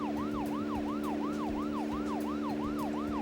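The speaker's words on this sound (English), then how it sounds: "Oh yeah, I have the siren." A police car siren wails in a Deadly Premonition video game scene, rising and falling in a quick, steady cycle over a constant engine hum, loud and close with no talking.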